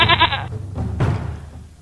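A goat sound effect in a radio fable about a wolf and a young goat: one clear, close bleat, then a couple of fainter, shorter calls that trail off.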